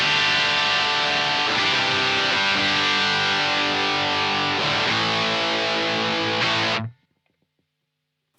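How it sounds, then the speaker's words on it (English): Electric guitar through an old pedal on the bridge pickup with full distortion: a dense, saturated sustained chord that shifts a few times, then cuts off abruptly into silence near the end. "This is on full distortion."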